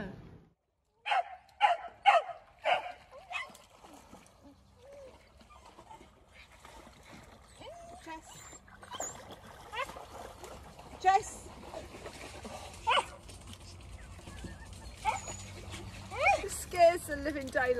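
Wet dogs bark in sharp bursts and splash around beside a narrowboat on the River Trent, with intermittent water noises and several people chatting throughout.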